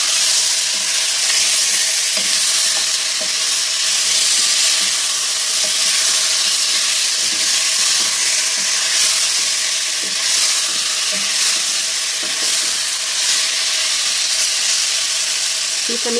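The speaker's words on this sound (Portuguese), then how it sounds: "Fica mexendo, virando ela até elas ficarem toda douradinha." Pork ribs fry and sizzle loudly in a pan with a steady, dense hiss while being stirred and turned until golden, with occasional scraping and clinking underneath; no one speaks.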